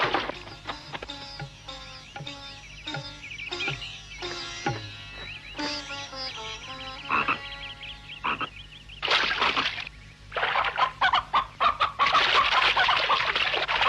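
Chickens cluck close and loud in a steady run of short, choppy calls, then break into harsher, busier squawking toward the end, with no talk over them.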